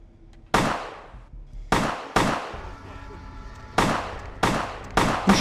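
Gunshots from a vampire video game ring out: six sharp, loud reports with quick decaying tails, spaced unevenly across a few seconds.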